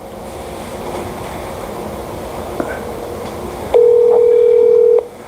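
A telephone line during a callback, with a low background hum giving way to a loud, steady dial tone that holds for just over a second before cutting off, and no talk.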